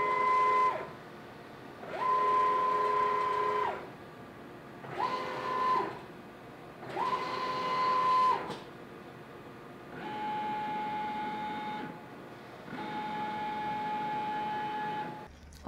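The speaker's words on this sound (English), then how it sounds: "So we have control of our machine. We're able to jog the machine around." A CNC machine jogs along its axes, with six separate bursts of steady whining stepper-motor tone, each lasting about one to two seconds and split by short pauses. The pitch shifts slightly between moves and no one speaks.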